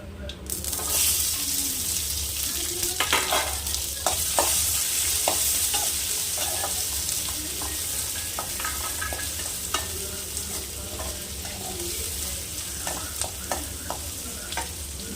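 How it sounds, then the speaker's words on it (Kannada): Chopped onions fry in a hot oil tempering with curry leaves, a bright steady sizzle under repeated spoon stirs and light scrapes against the pan, close and continuous, with no speech. "ಈರುಳ್ಳಿ ಹಾಕ್ತಾ ಇದ್ದೀನಿ."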